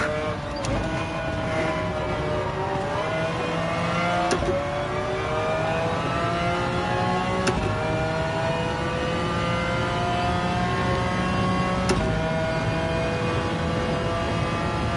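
A car engine revs steadily in Gran Turismo 7, a loud close tone climbing and falling through the gears with sharp shift clicks at intervals, no voices over it.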